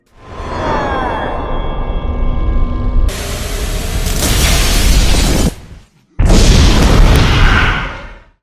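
A fuel tank in a film bursts in a loud, roaring explosion, followed by a rising rumble, a brief near-silence and a second heavy blast with debris.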